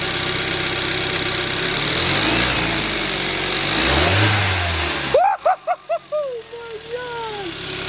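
Hyundai Veloster Turbo with a Go Fast Bits blow-off valve, engine droning and revving loudly before the throttle snaps shut and a series of sharp, whooshing valve dumps and chirps follow in quick succession; voices talk nearby.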